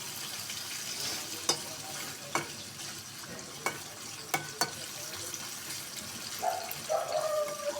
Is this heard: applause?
no